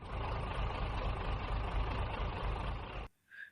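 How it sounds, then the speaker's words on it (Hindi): An old jeep engine runs with a loud, steady rumble, then cuts off abruptly, followed by a short faint sound in the quiet. "मेरी पुरानी जीप की इंजन की आवाज़ उस सन्नाटे को चीर रही थी।"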